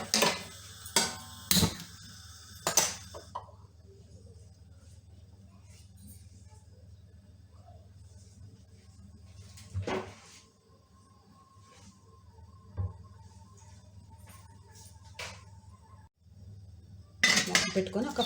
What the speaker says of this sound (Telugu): నేను ఇప్పుడు ఇది ఇడ్లీ కుక్కర్లో పెట్టుకొని నేను ఇప్పుడు స్టవ్ వెలిగిస్తున్నాను